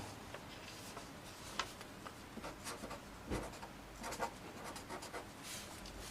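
Pen scratching on paper in short, quiet strokes and scribbles with small pauses, close but faint over a soft hiss, with no talking.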